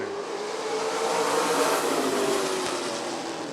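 Late model race cars roar as a pack at Rockford Speedway, a dense, loud wash of engine noise swelling and fading slightly as they get underway, with no speech.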